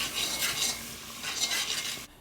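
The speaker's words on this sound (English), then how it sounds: "And you want to stir that constantly because you don't want it burned" Curry chicken with ginger is stirred constantly in a pot for Jamaican curry chicken, soft rhythmic scraping swells over a light sizzle, close and fairly quiet, ending abruptly in near silence.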